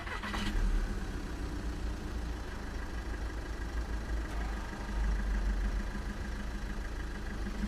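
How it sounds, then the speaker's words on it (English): In an indie horror video game, a car engine rumbles steadily as the car drives past. The low hum is continuous and moderately close, with no talk over it. "There was a car going by as I heard the noise."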